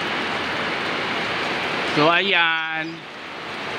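Heavy rain during a storm gives a steady, loud hiss of falling water, with a person briefly talking partway through over the downpour.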